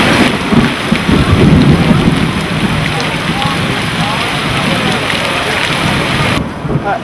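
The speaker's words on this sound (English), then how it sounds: "there was a thunderstorm right in the middle" A loud outdoor thunderstorm pours heavy rain with deep rolling thunder through most of the span, dense and close, before cutting off abruptly near the end.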